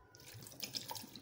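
Water running from a kitchen tap into a container, a soft steady splashing stream, faint and close, with no voices, added to tomatoes and garlic before grinding.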